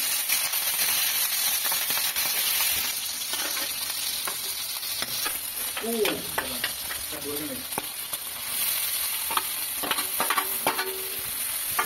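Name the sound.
duck meat dry frying in oil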